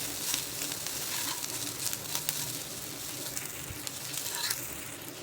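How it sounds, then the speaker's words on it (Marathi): Coriander sautéing in hot tempering oil for restaurant-style Soya 65 gives a steady, close, crackling sizzle that runs unbroken with small bursts of spitting. "घालायची कोथिंबीर मला परतून घ्यायचे व्यवस्थित"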